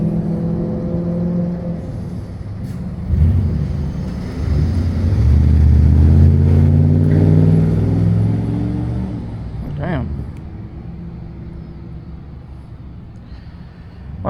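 An Amazon delivery truck drives past near a stop sign, its engine rising and swelling into a loud, rumbling pass before fading to a steady, distant drone.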